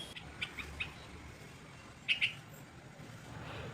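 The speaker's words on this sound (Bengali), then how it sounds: "এখন আপাতত দোয়েল পাখি গান শোনাচ্ছে" An oriental magpie-robin sings outside a closed window at home, a few clear, thin whistled notes, some brief and one louder pair, over a faint indoor hum.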